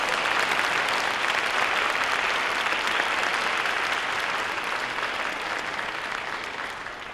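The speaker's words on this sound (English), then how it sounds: "Now we can applaud." A large audience at a college convocation claps continuously in a dense, even wash of applause that stays strong throughout and eases slightly toward the end.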